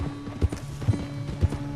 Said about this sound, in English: we can actually adjust the speed that Jack's going at on his little pony